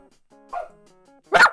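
A dog barks twice, close and sharp, the second bark louder, over a faint steady tonal hum.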